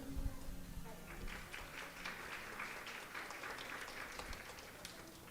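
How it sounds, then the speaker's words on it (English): Faint applause from a school audience at a cultural theater fair, a steady patter of many hands clapping at a distance, fairly even throughout with no voices over it. "Please a good applause for her."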